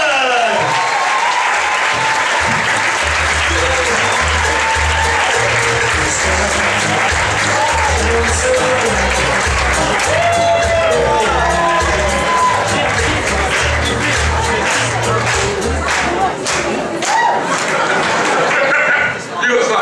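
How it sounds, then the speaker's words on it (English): A comedy show audience claps and cheers loudly and without a break, with whoops and crowd voices mixed into dense, sustained applause. "Let's get clapping in the middle of the room. Clapping to the side. Let's get some cheering going."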